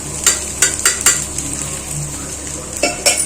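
Egg fried rice is stirred and cooked in a pan, with a steady sizzle under sharp, repeated utensil scrapes and clinks against the metal, close and fairly loud.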